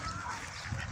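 Brief, close honking and quacking from swans and wild ducks at Shepilsk, one short burst of calls.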